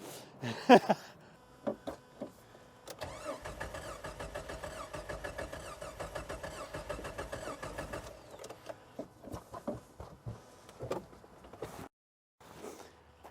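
An old project Jeep engine cranking in a rhythmic starter chug for several seconds, then brief sputters and further short cranking attempts with clunks, close but fairly quiet.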